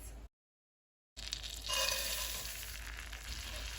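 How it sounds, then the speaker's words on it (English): Half a tablespoon of butter melting in a stovetop pan before oats go in for granola, giving a steady close sizzle and crackle after a brief silence, with no talking. "I'm going to add in that half tablespoon of butter, and then once that melts, I'll add the oats."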